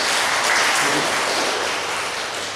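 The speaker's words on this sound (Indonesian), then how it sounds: "Tepuk tangan untuk Sambas." Audience applause at a Sambas health office outreach event on COVID-19 prevention and school immunization: a dense, steady wash of crowd clapping that holds throughout, with no talking over it.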